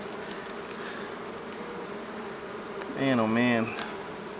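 Honey bees buzz steadily around an opened hive during a hive split, a dense close drone throughout, with a man briefly exclaiming over it near the end.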